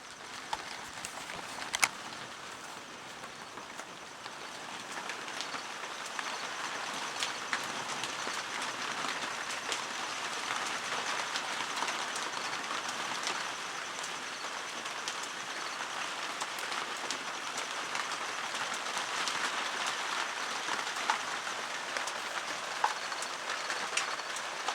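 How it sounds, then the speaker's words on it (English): Steady rain patters on a plastic roof overhead of a teepee, a dense continuous hiss with scattered louder drops, close and even throughout. "Can you hear it raining?"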